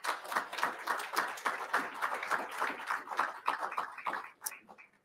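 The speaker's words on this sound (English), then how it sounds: "Let's give our sponsors a big round of applause." An audience at an AUSA Coffee Series event applauds the sponsors, a quiet, fairly distant patter of many hands clapping that keeps going and fades toward the end.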